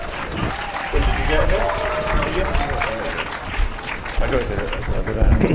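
A literary festival panel audience breaks into applause for the speakers, a burst of clapping that starts after a brief moment and continues under a voice speaking over it.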